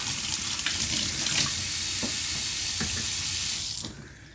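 Water runs steadily from an RV kitchen faucet into the sink and down the drain, a continuous close hiss and splash with no talking, cut off near the end.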